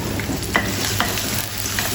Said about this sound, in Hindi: एक साइड पे मैंने अंडे रख दिए, एक साइड पे प्याज फ्राई करेंगे,